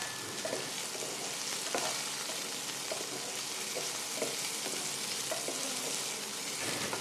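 Karamcha fruit fry in oil in a pan for a sour lentil dal, a steady close sizzle with occasional soft stirring knocks and no talking.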